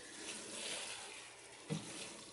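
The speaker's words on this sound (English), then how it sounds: "And we're gonna add water." Water from an outdoor spigot pours steadily onto soil blocks for seed starting, a soft continuous splashing with one brief heavier splash near the end.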